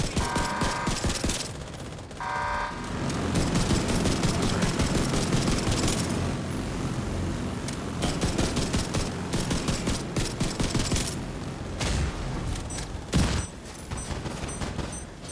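An automated autocannon in The Division 2 fires continuous rapid bursts, loud and dense, with brief pauses between volleys and little else under the shots.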